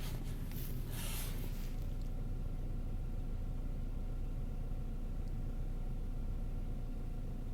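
A 2003 Saab 9-5 with a new engine idles after a cold start. It makes a steady, low rumbling hum that holds evenly throughout, with a brief faint rustle early on.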